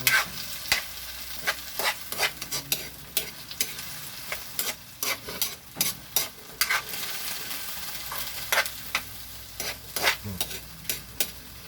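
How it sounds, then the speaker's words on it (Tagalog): Aromatics for ginisang upo stirred and sautéed in a frying pan, with a continuous sizzle broken by repeated sharp scraping strokes of a spoon against the pan, close and fairly loud. "Medyo halo-haloin natin guys para mas magisa talaga yung ating mga ricado"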